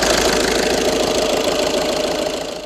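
A 2012 VW Golf VI 1.6 TDI diesel (CAYC) idles in limp mode with a power-loss fault, a steady close-up clattering diesel knock with an even, unchanging rhythm and no talk.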